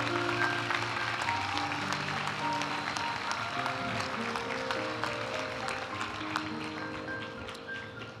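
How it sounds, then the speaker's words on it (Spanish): An audience applauds graduates of a master's program in business law at a graduation ceremony, a continuous even spatter of clapping with faint tonal tones and ticks threaded through, lasting several seconds. "Aplaudimos ahora a los graduados de la maestría en Derecho de la Empresa."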